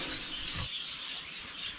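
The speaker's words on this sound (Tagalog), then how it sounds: "Andito si paring uwak." A crow kept at a rural hut gives a harsh, raspy call, a short rough burst near the start followed by noisy, scratchy texture with no talk.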